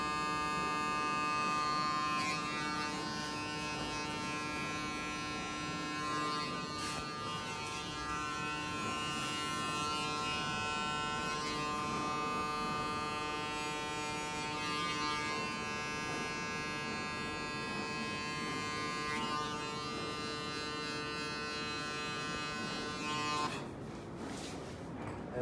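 Electric hair clipper buzzing continuously and close while cutting hair behind the ears during a graduated haircut, a steady hum that runs almost the whole time before a brief change near the end.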